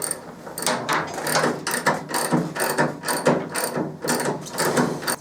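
A ratchet turns a 22 mm socket on a Triumph Scrambler during fork work, giving rapid rhythmic clicking bursts in repeated close strokes with brief pauses between them.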